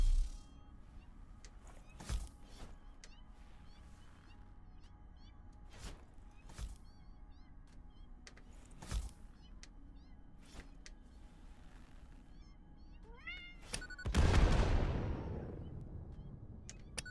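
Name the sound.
cats meowing in the video game Satisfactory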